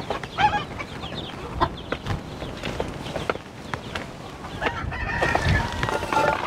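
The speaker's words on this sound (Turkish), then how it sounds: "bu hayvan da civcivlerini göremediği için gurk gurk mu desem, kak kak mı desem şaşırmış durumdadır" Broody hens clucking and murmuring in a barnyard, separated from their chicks, with a rooster crowing nearby; irregular calls and rustling throughout, moderately loud.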